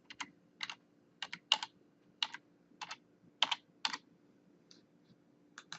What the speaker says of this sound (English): So I'm going to go ahead and type in the word curtains.